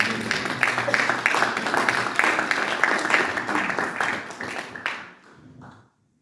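A church congregation claps together in a dense, steady wash of applause that carries on for about five seconds and then fades out quickly.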